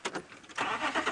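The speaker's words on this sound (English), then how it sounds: "That's a very loud revving noise this car is making." A safari vehicle's engine revs loudly in short surges, close up and rough, rising twice within a second with no voices over it.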